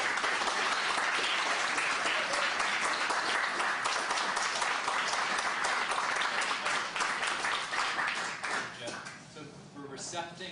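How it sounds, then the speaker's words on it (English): A standing ovation for a team of cancer researchers at the closing session of a 2009 scientific meeting: sustained, dense applause from a large audience that fades near the end as a voice comes in. "I would like you to give Tyler and his researchers a round of applause"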